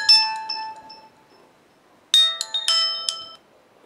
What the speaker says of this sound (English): You can set custom ringtones for someone.